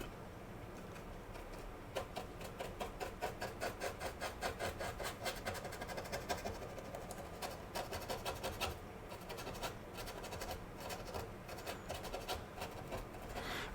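Paint is chipped off the top coat of a model U-boat's hull in close, steady, rhythmic scraping strokes that continue without pause and with no talking.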